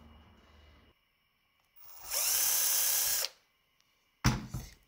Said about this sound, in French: Nous allons également percer de manière à créer en fait un rond